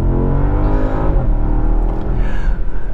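A 2021 Bentley Flying Spur V8 sedan accelerates hard, its engine a loud, steady low rumble that swells and climbs in pitch as it pulls, with no one speaking.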